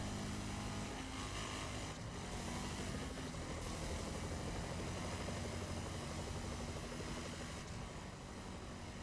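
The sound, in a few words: police helicopter in a video game pursuit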